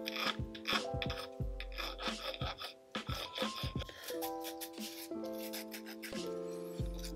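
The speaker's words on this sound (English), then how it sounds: "You can do this with sandpaper, with a Dremel, or even with just a little hand file." Small hand file rasping a light chamfer into the port edges of a two-stroke piston, a steady series of close, dry back-and-forth strokes with brief pauses between passes, no talking.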